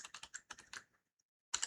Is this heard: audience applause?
no